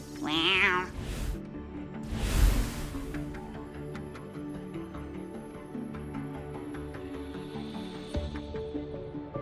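Cat in the video game Wuthering Waves gives one clear, rising meow at the start, followed by a game sound effect and soft, steady background music with chime-like notes.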